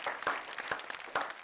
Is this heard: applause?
yes